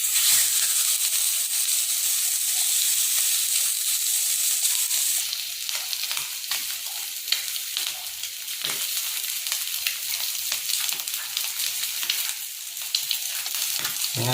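Fish roasting in oil on a banana leaf in a pan gives a steady, close sizzle and hiss that runs throughout, its crackle growing busier partway through.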